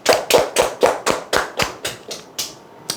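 Slow, distinct claps ring out one after another, about a dozen evenly spaced sharp hits that gradually soften, like a small audience or a single person clapping along at a seminar.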